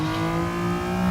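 Racing video game Toyota GT86 engine bouncing off the rev limiter, a loud steady buzzing whine that holds at the top of the rev range with a slight stutter.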